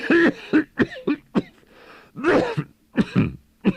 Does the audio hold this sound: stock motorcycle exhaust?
no